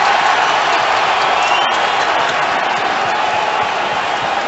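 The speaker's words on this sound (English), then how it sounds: "That's why the crowd is responding." Dense roar of a stadium crowd at a San Francisco 49ers versus New England Patriots football game, a steady broad wash of voices and cheering heard from a distance, with no commentary over it.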